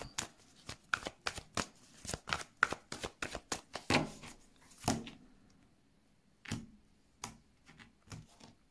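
Tarot cards being shuffled by hand for a reading: a rapid run of crisp riffling slaps and flicks for about four seconds, then a few separate card snaps spaced out over the following quiet stretch, close and fairly quiet, no talk.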